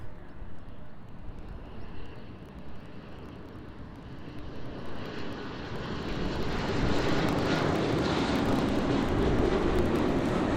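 An Embraer E175 airliner lands on runway 06 at Amsterdam airport, its steady engine roar heard from a distance and growing louder and broader partway through.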